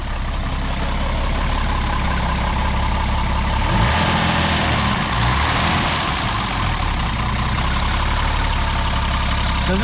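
A 1970 Mercedes-Benz 280SEL engine idles steadily after a hot start, a continuous close, low running drone with a brief rougher patch mid-clip and no talk.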